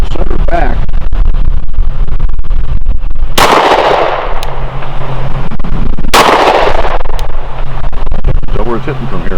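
A Glock 20 10mm pistol fires PPU Defense 180-grain rounds at a range: two loud, sharp shots, a few seconds apart, each with a ringing tail over steady background noise.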